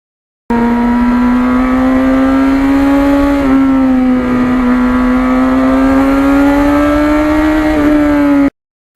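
A 1991 Yamaha FZR 1000cc motorcycle ridden on an open road, loud steady engine drone at cruising speed with a slight pitch dip and rise, close and continuous, no talk.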